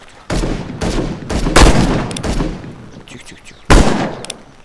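Loud shotgun blasts from the Wild West survival game Heat boom in a quick series, each with a sharp crack and short echoing tail, with faint clicks between shots.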